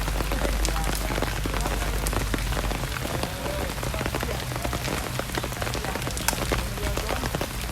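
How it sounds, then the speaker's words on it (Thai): Steady rain pours onto a surface at an outdoor sepak takraw match, a dense, continuous patter of drops, fairly loud and constant throughout with no clear voices. "ทั้งที่ฝนตกนะครับ"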